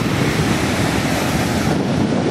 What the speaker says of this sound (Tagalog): Lalaki ng mga alon.